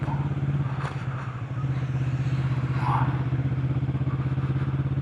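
A Kawasaki Vulcan S motorcycle rides through a town centre with a steady, close engine drone and a slight rise in revs midway.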